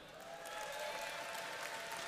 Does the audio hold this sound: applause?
yes